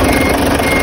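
A Fuso tractor head's 6M70 double-EGR diesel engine runs in a loud, steady drone for under a second, with no voices over it.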